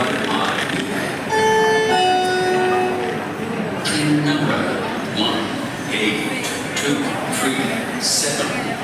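Chhattisgarh Express train at Raipur railway station, with a busy station ambience, a tonal horn or announcement chime, and people talking throughout.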